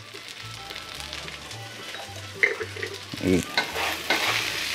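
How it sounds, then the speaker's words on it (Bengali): Rice stirred continuously in a pot while cooking chicken biryani, giving steady close scraping and faint sizzling throughout, with a brief spoken word and a few sharper clinks and scrapes toward the end. "চালটা কিন্তু কন্টিনিউয়াসলি নাড়তে হবে যাতে পুরা না লাগে"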